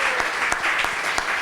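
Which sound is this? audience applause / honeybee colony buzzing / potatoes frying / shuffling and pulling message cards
audience applause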